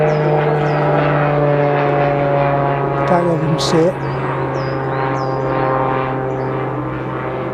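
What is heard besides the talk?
propeller plane flying overhead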